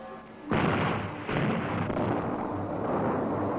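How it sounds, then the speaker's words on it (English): A dynamite blast on canyon walls during dam construction: a sudden loud broadband boom erupts, with a second surge about a second later, then a long rumbling roar of debris that stays loud to the end, with no talk. "After each explosion"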